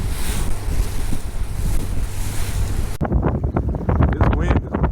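Harsh cold wind roars across an open fishing boat in whitecap seas, loud constant buffeting with wave wash, then the sound abruptly shifts to choppier splashing and knocks on the hull.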